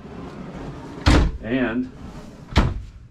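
Wooden drawers sliding and bumping shut in the interior of a 2022 Newell bunk-model motor coach, two sharp knocks about 1.5 seconds apart with a person speaking between them.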